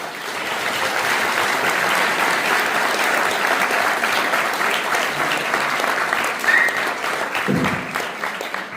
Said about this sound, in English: And I think it's a big clap for our ladies.